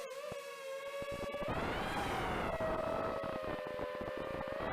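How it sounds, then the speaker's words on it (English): Holybro Shuriken X1 V2 200mm FPV racing quadcopter arming, its motors spinning up into a loud, close, steady whine with rising and shifting harmonic pitch, broken by faint clicking ticks, with no talk. "Arming the quadcopter here."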